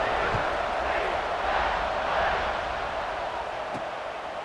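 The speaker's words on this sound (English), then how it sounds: "this crowd is buzzing after that last score" A stadium crowd in the video game College Football 26 produces a dense, steady buzz of many distant voices, an unbroken wash of crowd noise with no distinct cheers standing out.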